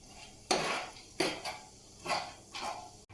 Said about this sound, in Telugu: దీనిలోనైతే హోల్ గరం మసాలా దినుసులన్నీ వేసి ఫ్రై చేసుకుందాం.